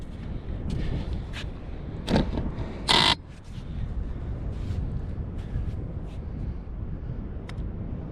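Steady roaring wind buffets the microphone on a beach during sea fishing, with a few brief knocks and bumps standing out against the constant rush.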